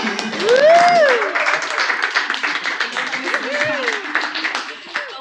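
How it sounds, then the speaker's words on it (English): An audience applauds to welcome Miss Lynette, the founder, at a Luxe Mastermind gathering, with steady clapping that swells at first and then settles while a voice speaks over it. "Un aplauso, please"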